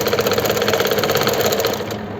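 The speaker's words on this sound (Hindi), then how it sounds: "एक सिलाई और लगाएंगे हम।" A sewing machine stitches a kurti seam in a steady, fast mechanical whirr with a rapid rhythmic needle patter, running continuously and loud throughout.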